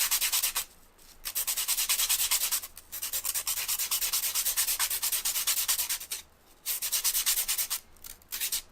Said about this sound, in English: My charcoal's getting a bit dull, so I'm just going to sharpen it again.